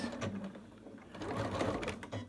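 A sewing machine stitches briefly in reverse on an overlocker cover, a steady close mechanical whirr lasting a couple of seconds.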